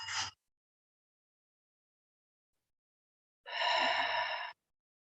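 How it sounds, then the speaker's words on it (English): Breath sounds during a guided meditation: a short exhale at the very start, then after about three seconds of silence one long, close, deep breath of about a second, with no talk. "Breathing in"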